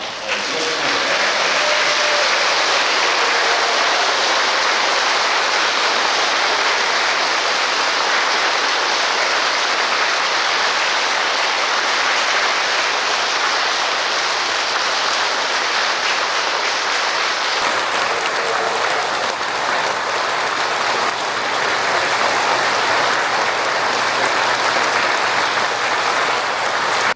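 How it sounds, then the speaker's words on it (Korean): Loud, sustained applause from a standing church congregation at a Pentecost Mass, a dense wash of clapping filling the whole stretch with a slight shift in texture partway through. "스탠딩 오베이션이라고 해서 기립박수 모두 다 여기 앞에 분들 빼고 다 일어나셔서 지원해주세요"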